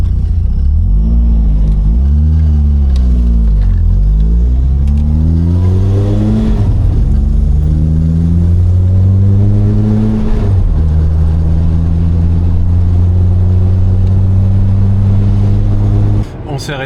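A Renault Clio 16S engine starts and revs repeatedly, the pitch climbing and falling in several sweeping pulls, loud and close, with people talking over it.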